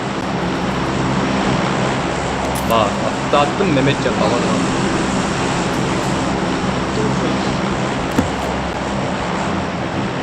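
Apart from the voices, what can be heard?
airplane flying over in PUBG video game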